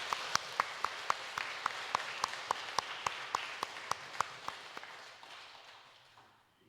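Church congregation applauding to welcome visitors during a Sunday worship service, a soft wash of many hands with sharp, regular strikes standing out, gradually fading away.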